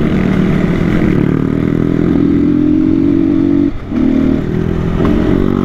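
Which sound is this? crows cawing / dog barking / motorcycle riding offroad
motorcycle riding offroad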